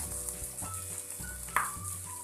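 Sliced bitter melon dropped into a pan of softened tomatoes, giving a steady, soft sizzle of frying with light stirring scrapes throughout and one brief louder clatter midway.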